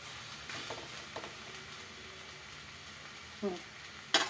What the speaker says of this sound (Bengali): 10 মিনিট এইভাবে ঢাকনা তুলে তুলে আমি নাড়াচাড়া করবো